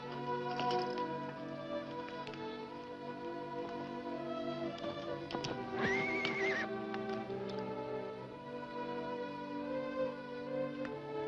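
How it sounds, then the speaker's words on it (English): A horse gives a loud, drawn-out whinny in the middle, with other horses nearby and scattered hoof clops, set against a steady tonal music bed with no talking. "Put your horse with the other horses"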